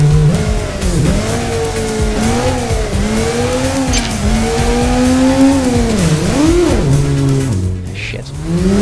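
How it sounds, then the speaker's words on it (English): A motorbike ridden in the video game Headhunter, its engine droning loud and close throughout with rising and falling pitch as it revs and shifts, plus brief tyre squeals, and no voices. "While riding a bike in Headhunter"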